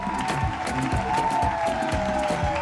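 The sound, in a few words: audience applauding for Eric Virgal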